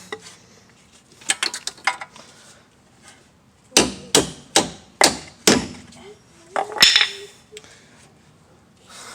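A hammer taps a stuck bolt on a 2004 Mercedes-Benz E500 front shock, giving a quick burst of light metallic strikes, then a series of about six louder, evenly spaced blows and a couple more, close by.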